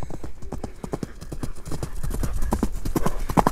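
Horse hooves galloping in a fast, steady clip-clop rhythm, close and loud, from a Kyrgyz horse being ridden at speed in the Toktogul area; a faint whinny may come through.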